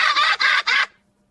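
A green parrot gives three quick, loud, close cackling bursts like raucous laughter, then falls silent.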